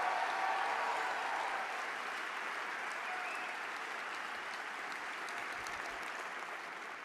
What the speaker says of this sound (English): Let's give them a round of applause for a job well done.